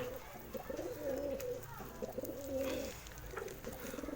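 Several pigeons coo in repeated low, throaty rolls, one call after another, close by and fairly quiet over a soft background hum.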